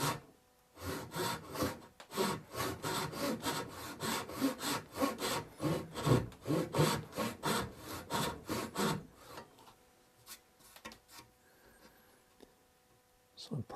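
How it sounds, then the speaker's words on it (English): A dovetail saw cuts into mid-century teak wood in quick, even back-and-forth rasping strokes, close and clear for about nine seconds, then slows to a few scattered scrapes and quiet handling noises. "I'm going to use a dovetail saw for this particular job."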